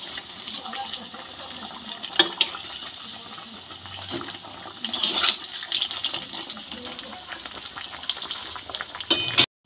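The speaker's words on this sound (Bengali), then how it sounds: "এইভাবে সব চপগুলোকে একটা একটা করে আমি ভেজে নেব।" Banana flower chops coated in gram flour batter fry in hot rice bran oil, giving a steady crackling sizzle with a few louder spits and clatters, close and without talk.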